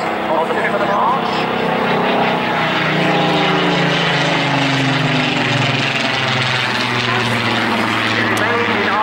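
A Supermarine Spitfire propeller aircraft flies past at the Sunderland airshow, its loud engine drone sliding in pitch as it passes close by, with someone talking over it.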